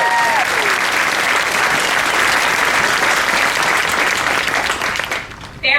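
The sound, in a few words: applause for new airmen at graduation ceremony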